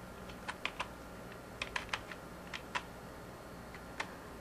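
Light, quick keystrokes on a computer keyboard come in short irregular bursts of clicks, close and fairly quiet, with pauses between the groups.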